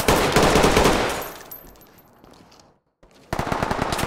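Ready or Not video game gunfire: a loud automatic burst fades into near silence, then another rapid string of close shots kicks in abruptly at the end.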